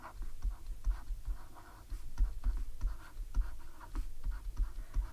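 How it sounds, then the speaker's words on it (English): A pencil writes on paper during a maths working-out, giving a steady scratchy scribble with short strokes and brief pauses, close and fairly quiet, with no talking. "I'm going to write this here."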